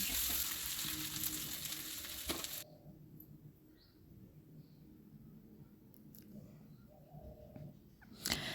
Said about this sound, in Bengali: আমি এটা পেঁয়াজ দিয়ে সুন্দর করে ভেজে নিয়েছি